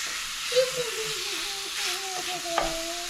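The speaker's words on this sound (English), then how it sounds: "Now I have my heat set at very high because you want to really brown this meat." Meat sears on very high heat, giving a steady bright sizzle and frying hiss with stirring scrapes and a few clinks. A faint tone runs through it, and no one talks.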